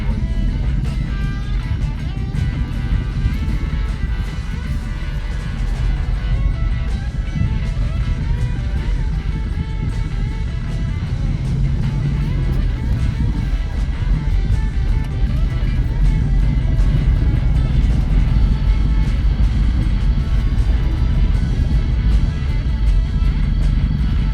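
A Jeep Grand Cherokee with a suspected front suspension fault driving over rough four-wheel-drive terrain, a continuous loud engine and road rumble heard from inside the vehicle, steady throughout with rattles and bumps.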